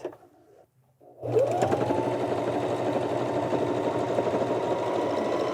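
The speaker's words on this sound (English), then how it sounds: "And then dart number 3. Stitch off at that point." A Janome 725S sewing machine stitches a fabric dart in one steady, close run after a brief quiet start, its motor whirring evenly with a rapid needle patter throughout.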